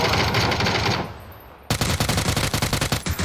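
Automatic gun in PUBG: Battlegrounds fires in two loud, fast bursts, the first fading out, then a sharp restart of rapid rattling shots close up.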